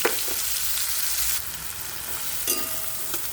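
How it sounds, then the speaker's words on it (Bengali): Chopped onion tossed into hot oil tempered with dried red chilli for a spicy fish curry, sizzling steadily close up with faint stirring and a fresh burst of crackle near the end. "ফোড়নটা রেডি হয়ে গেছে এবার আমি ওর মধ্যে দিয়ে দেব কুচানো পেঁয়াজ"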